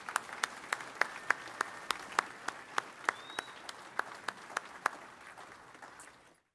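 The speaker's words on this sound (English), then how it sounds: "Please join me in a round of applause to recognize every one of our graduates and their achievements." Scattered audience applause for graduates at a CLC commencement ceremony for Staples career and technical programs, a steady wash of clapping with sharp individual claps standing out in a regular rhythm, fading out at the end.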